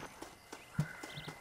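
Horse hooves clopping at a walk in the Red Dead Redemption video game, several soft evenly spaced thuds, faint and close, with no talk.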